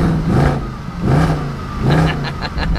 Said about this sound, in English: let's listen to the most important part here, which is